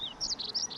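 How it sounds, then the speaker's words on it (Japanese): Several birds chirp and tweet in short high bursts outdoors, fairly clear over a light background hiss, with no one talking. "めっちゃ鳥鳴いてんな。"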